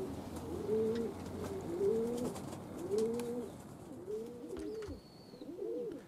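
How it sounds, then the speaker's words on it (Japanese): Pigeons coo near an outdoor loft during an exercise flight, a series of soft, rolling coos repeating roughly once a second, with a faint high whistle-like call briefly in the background. "鳩はまだ飛び続けてますね。"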